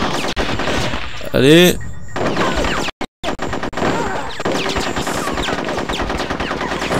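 Dense, loud machine gun fire from the Nintendo 64 game Conker's Bad Fur Day, rapid bursts with crashes and a rising game sound effect, broken by a brief silent gap, while someone speaks briefly over it.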